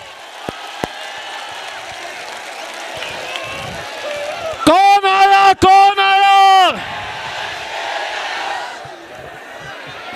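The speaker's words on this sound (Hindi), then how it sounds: "जोरदार तालियों के बीच" A rally crowd in Akola roars and cheers for Asaduddin Owaisi's arrival, loud massed shouting swelling for a couple of seconds over steady background crowd noise, with a voice chanting through a loudspeaker and people talking.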